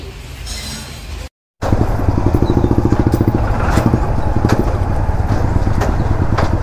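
A motorcycle engine idles and revs nearby on a ride toward Dawki, a loud, rhythmic chugging that starts after a brief gap and continues steadily to the end.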